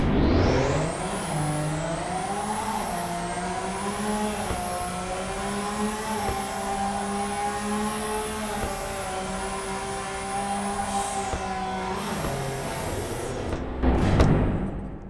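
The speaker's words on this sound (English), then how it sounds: "the engine note is actually so loud I couldn't hear the turbo whistle" A Lamborghini V12 in the video game Car Dealership Tycoon revs and holds a loud, sustained engine howl, pitch rising and falling in steps with gear-like shifts, then dropping away before a final brief surge.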